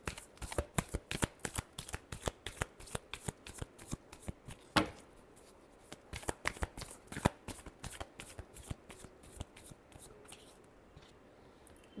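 Tarot cards being shuffled by hand, a rapid rhythmic series of crisp riffling flutters repeating steadily, close and fairly quiet, with no talking over them.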